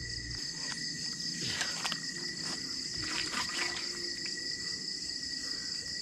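Steady, high-pitched cricket chirping fills the night air, a continuous insect chorus with faint rustling underneath.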